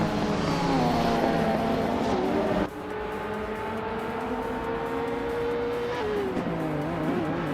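Race cars roar past in a racing video game, a loud continuous engine whine with rising and falling pitch as the cars jostle for the lead, shifting gears partway through, with no talk.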